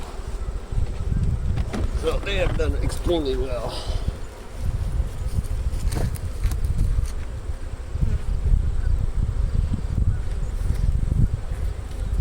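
Honey bees drone around beehives in a melon field, a constant close buzz with wind rumble, while someone talks over it.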